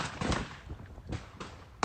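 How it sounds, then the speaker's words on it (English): Gunshots at a filmed shooting involving a rapper: several sharp broadband bangs ring out amid muffled commotion, with a louder crack near the end, fairly close and harsh. "Seconds later, gunshots start going off and the video starts getting blurry as the rapper runs to avoid getting hit."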